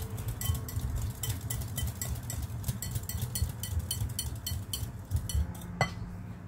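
A spoon mixes condensed milk and graham in a dish, making repeated light metallic clinks and scrapes in a steady stirring rhythm. A sharper clink comes near the end.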